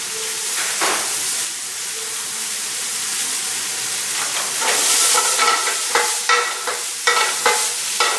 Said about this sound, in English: As soon as these onions saute to the color I'm looking for, some nice dark browns and golds in there.